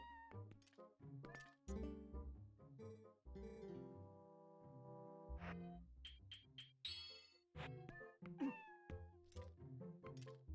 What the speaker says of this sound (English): Look at all the kitty cats.